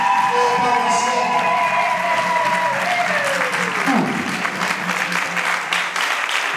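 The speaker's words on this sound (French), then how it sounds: "Un tonnerre d'applaudissements pour vous-même, chers pharmaciens et pharmaciennes." An audience of pharmacists at a parish's 20th-anniversary celebration gives loud, sustained applause mixed with cheers and whoops, while gliding tones from a sound system ring over the crowd.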